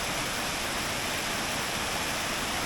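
Cascades above Twin Falls at Rock Island State Park, running toward the Caney Fork River in winter, give off a steady, even rush of water, faint and unbroken throughout.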